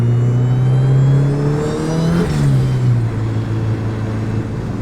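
A 400 hp Honda Civic's B-series engine revs hard close by, its tone climbing steadily to about 6,000 rpm before a quick gear change drops the pitch and it pulls again.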